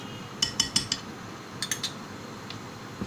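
A spoon clinks against a dish while ketchup is stirred into a vegetable au gratin sauce, a quick run of four light taps, then a second cluster of three and a faint final tick, close and quiet.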